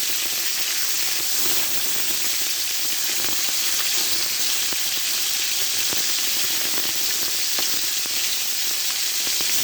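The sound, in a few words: frying silver carp fish with salt, chili powder, turmeric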